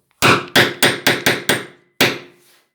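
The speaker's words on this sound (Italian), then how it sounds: "martellate finché vedete che è passato dietro" Seven sharp, loud hammer blows strike a punch on metal to cut DIY washers for an Iron Man DeAgostini model. Six come in quick, even succession, then a final strike follows after a short pause, each ringing briefly.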